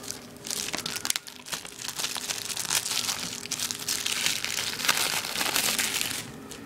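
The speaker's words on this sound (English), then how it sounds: "See how I cut up the seal." Plastic seal being cut and peeled off a Grand Theft Auto 3 PlayStation 2 game case, close-up crinkling and crackling wrap that runs steadily for several seconds with no talk.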